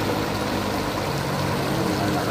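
Strong floodwater rushes over an old road that has turned into a river, a loud, steady, unbroken roar close by with no pauses.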